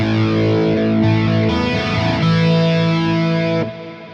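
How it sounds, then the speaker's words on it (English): Electric guitar played through a Hotone Ampero II Stomp multi-effects unit with an added reverb, giving a loud, sustained distorted tone with chorus-like shimmer and a wash of reverb under the notes. "we'll turn the reverb off and add another reverb and see if that does it."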